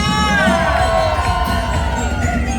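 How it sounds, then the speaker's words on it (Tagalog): Loud cheering from a large crowd at a Pasig city celebration, shouts and whoops blending into a sustained roar that stays strong throughout. "sa malakas na hiyawan"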